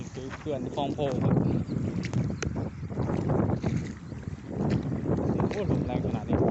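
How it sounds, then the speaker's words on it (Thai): Strong wind gusts rumble across the microphone at Khlong Pho dam on a fishing outing, loud and continuous with buffeting surges, while someone speaks throughout. "ลมแรงมากลมแรงมาก"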